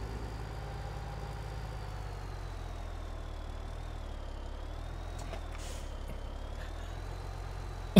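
A tractor engine in the video game Farming Simulator 17 runs at a steady low drone throughout, with a few faint clicks and a brief knock at the very end, and no one talking.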